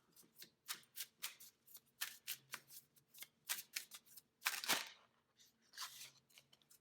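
Kuan Yin oracle cards being shuffled up close, a steady run of crisp riffling and slapping bursts with one longer, louder shuffle near the end.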